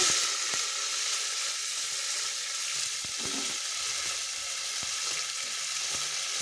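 Curry leaves, tomato and onion hiss loudly in hot tempering oil with asafoetida, a constant bright sizzle close by, punctuated by occasional light stirring knocks.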